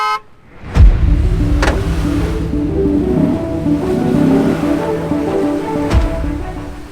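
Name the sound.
vehicle horn, then engines gunned for off-road recovery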